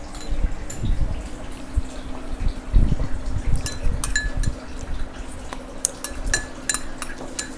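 Shrimp and pork being stirred in a pot for baked shrimp with glass noodles, with scattered metallic clinks and scraping of a utensil against cookware over a low steady bubbling hum, close and moderately loud.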